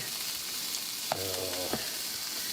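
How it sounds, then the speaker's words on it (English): Oil sizzling in a frying pan on a turned-up burner while a classic Reuben is cooked, a faint steady crackle with a sharper burst of frying lasting about half a second in the middle, no talk. "You can hear that sizzling."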